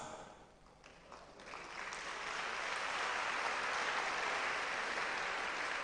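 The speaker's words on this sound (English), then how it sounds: "So you decide not to respond, but you clap." A crowd at a national public speaking competition grand finale claps, starting thin and scattered, then swelling after a couple of seconds into dense, loud, sustained applause.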